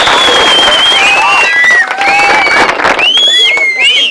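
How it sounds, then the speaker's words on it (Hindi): Clapping and cheering burst loud from the audience of a Bhojpuri magician comedy show, continuous applause with shrill whistles and whoops rising and falling across it. "इसी बात पर बजाओ ताली।"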